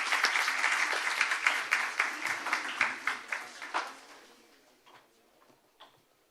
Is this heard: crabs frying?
no